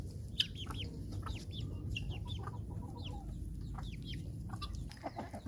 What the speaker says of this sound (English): that's the little chicken that was in the brooder with them and has been with them